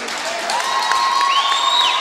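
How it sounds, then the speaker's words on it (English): Crowd at a high school boys basketball game between Westfield and Brocton cheers and applauds after a slam dunk, a steady roar of voices with a whistle-like tone rising over it. "he gets the crowd excited there with that jam"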